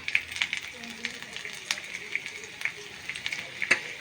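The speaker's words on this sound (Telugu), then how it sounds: "ఇప్పుడు ఇందులోంచి ఆయిల్ తీసేసి ఇందులోనే మళ్ళీ మనం కర్రీ చేసేసుకుందాం ఇగోండి ఇలా ఆయిల్ మొత్తాన్ని తీసాక ఫస్ట్ అయితే ఇందులో మళ్ళీ వెల్లుల్లిపాయ ఫస్ట్ ఫ్రై చేసుకుందాం" Garlic frying in oil in a pan being readied for a potato curry: light, crackly sizzling with scattered sharp pops and spatters, moderately close, under a speaking voice.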